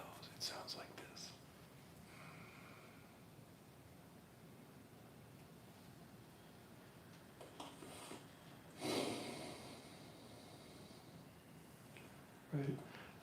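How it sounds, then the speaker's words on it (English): Ujjayi meditation breathing through the nose: soft, steady hissing out-breaths, quiet and close, with a few louder breathy bursts near the end and no speech. "Normal in-breath and just a long kind of hissing out-breath through the nose."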